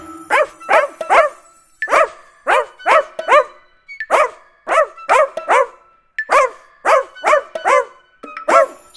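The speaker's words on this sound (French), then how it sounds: "c'est lui mon petit chien" A small dog barks in quick bursts of two or three yaps, repeated steadily and loudly, set within a French children's farm nursery rhyme with no voices over it.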